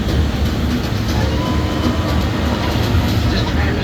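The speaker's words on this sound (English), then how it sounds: "This tram is overloaded" Universal Studios Hollywood Glamour Tram rolling along on the studio tour, a loud continuous rumble and rattle of wheels and running gear, steady throughout, with faint voices mixed underneath.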